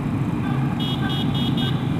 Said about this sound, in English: I got a little horn